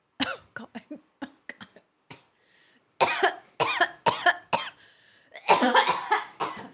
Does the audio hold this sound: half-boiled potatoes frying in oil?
no